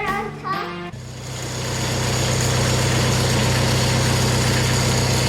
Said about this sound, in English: Firing up the tractor.